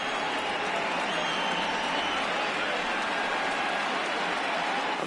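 A baseball stadium crowd of tens of thousands cheers on its feet in a steady, loud roar of noise and applause, sustained without a break.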